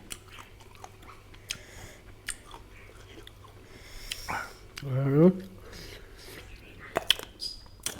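Someone bites and chews crunchy unripe mango dipped in chili shrimp paste sauce, with soft wet crunches close up, interrupted by a short voiced exclamation and occasional clicks.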